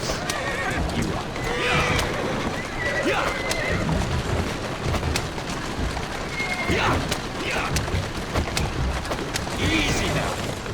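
A horse whinnies several times over steady hoof clops in the video game Assassin's Creed Syndicate, with rustling and a low background rumble throughout.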